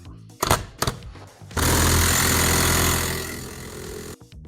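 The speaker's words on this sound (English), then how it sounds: "We've got our socket, and then we're just going to torque this down again." Power tool run on a nut on a Yamaha BWS 100 scooter, with two short bursts followed by a loud sustained whirring buzz lasting about three seconds, heard close and alone.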